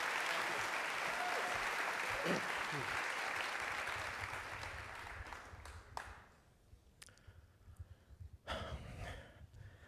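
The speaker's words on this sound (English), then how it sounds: "Please welcome to the stage with hearty applause, Mr. Matthew Dix." Hearty applause from a theater audience welcoming a performer to the stage, dense and loud for about four seconds, then thinning out into scattered claps and a few crowd noises.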